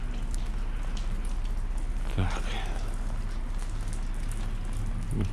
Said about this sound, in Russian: Но пошел дождь.